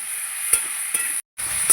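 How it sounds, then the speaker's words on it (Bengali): Green beans fry in a pan with a constant bright sizzle, broken by a few soft stirring scrapes and one brief gap, close and steady with no talking. "সিমটাকে আমি ভেজে নেব।"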